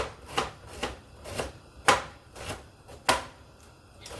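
Peeled ginger being sliced thinly with a knife on a board for an anti-flu brew, a series of crisp cuts in an uneven rhythm, close and fairly loud.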